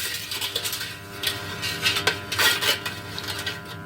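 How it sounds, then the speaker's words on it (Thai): A spoon clinks and scrapes against a metal pot as sugar is stirred to dissolve it while making plum caramel wine, with a busy run of close, irregular taps and rattles and no talking. "คนให้น้ำตาลทรายละลายนะคะ ไม่งั้นมันติดก้นหม้อมันจะเหม็นไหม้นะ"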